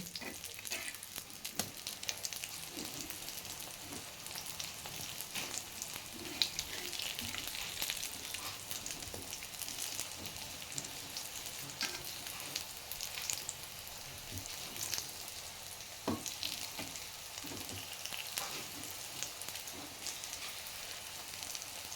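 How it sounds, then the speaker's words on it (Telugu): Eggplant slices fry on a hot tawa, giving a constant hissing sizzle with scattered scraping and flipping sounds as the pieces are turned, close and moderately loud with no voices. "ఇలాగే తిప్పుతూ ఇవి కూడా ఫ్రై చేసుకోవాలండి"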